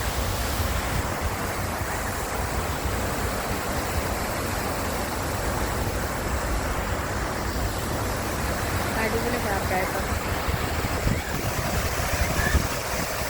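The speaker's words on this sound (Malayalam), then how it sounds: "വെള്ളം ഇങ്ങനെ വീണുകൊണ്ടിരിക്കുന്നുണ്ട്" Water falls steadily in a park, a continuous broad rushing wash like a small waterfall or fountain that runs throughout, with a person talking over it.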